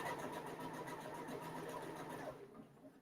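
Close and steady, a sewing machine hums while stitching skirt fabric, then slows and fades as the seam reaches the edge.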